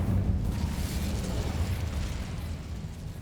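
An Incendio fire spell is cast in Hogwarts Legacy, a loud, dense burst of roaring flame with a deep rumbling low end that holds steady and then slowly fades over about three seconds.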